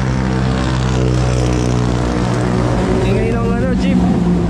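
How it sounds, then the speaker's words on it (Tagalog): Steady low engine drone from a jeep, continuous and fairly loud throughout, with someone talking over it and a faint whistling sound near the end. "Siya nga pala kung bakit po ingay ng jeep."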